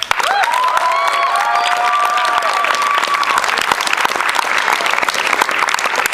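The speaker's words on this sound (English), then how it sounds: "I would like for you guys to give a round of applause to sound and lights up there." A theater audience gives loud, sustained applause for the sound and lights crew after a school play, dense clapping filling the room steadily while a voice briefly rises over the start.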